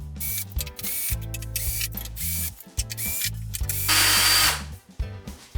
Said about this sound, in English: just take the screws out of here